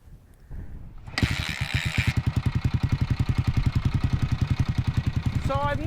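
A rare 1990s four-stroke motocross bike, a pre-YZ400 with its choke on, catches after a brief crank and settles into a loud, close, fast thumping idle with an even rhythm.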